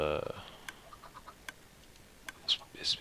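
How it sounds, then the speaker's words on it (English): Minecraft chickens in a pen, a few short clucks and chirps scattered across the clip, faint to moderate, with game sound effects around them. "we went from having, I think, 1 or 2 chickens in here to having 4 or 5"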